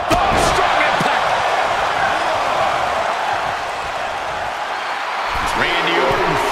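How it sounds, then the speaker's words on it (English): An electric arena crowd in the WWE 2K25 wrestling game roars as a constant loud wash of cheering, with a few sharp impacts at the start and end. "Randy Orton feeding off this electric crowd."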